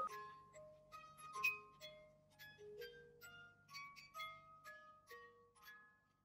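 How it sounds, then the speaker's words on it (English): A small music box plays Happy Birthday in bright, tinkling plucked-metal notes with a gentle, unhurried melody, very faint and delicate, alone without talking. "So we have a music box,"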